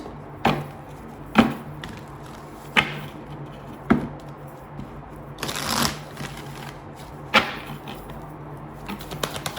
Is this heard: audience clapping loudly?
no